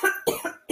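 Several short throat-clearing coughs from a person during a laughter yoga session, three or four bursts in quick succession, close and fairly soft.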